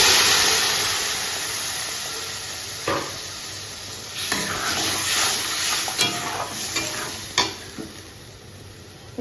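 Spice paste fries with already-fried potatoes in hot oil. A continuous close sizzle runs throughout, broken by scraping stirs and a few sharp clinks of utensil on pan.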